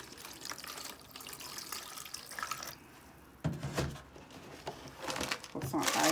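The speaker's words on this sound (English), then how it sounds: "we're gonna soak it with some distilled water" Distilled water poured into a portable air cooler to soak its coil, a soft, uneven splashing and trickling that swells louder in bursts, with a person talking at times.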